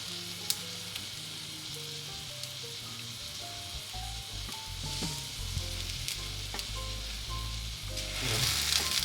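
Takoyaki batter sizzles in a frying pan, a steady dense crackle with small pops, holding constant throughout and swelling slightly louder near the end; music plays underneath.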